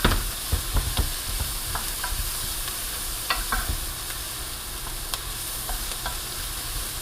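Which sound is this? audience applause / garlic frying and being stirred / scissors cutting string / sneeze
garlic frying and being stirred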